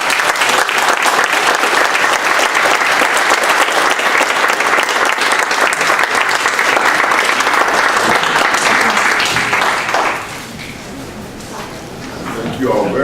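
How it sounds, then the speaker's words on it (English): Loud, dense audience applause at a YMCA talk on Martin Luther King and racism, sustained for about ten seconds before dropping off, then faint scattered claps at the end. "another round of applause for Brady"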